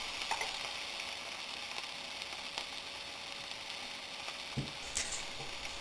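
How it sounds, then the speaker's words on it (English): Onions sautéing in a pan, a steady soft sizzle with faint stirring scrapes and a few small pops throughout. "Saute the onions until they are slightly brown."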